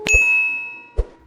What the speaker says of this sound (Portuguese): Também ative o sininho para receber as notificações das próximas postagens